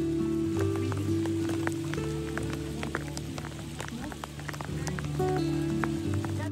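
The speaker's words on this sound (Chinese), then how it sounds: "它打在我的这个衣服上面是固体的。 冰雹的颗粒还不小呢，这直径得有1厘米。" Hail about a centimetre across pelts a jacket outdoors at Lake Louise, a dense, continuous patter of sharp taps and ticks with a steady wash of precipitation behind it.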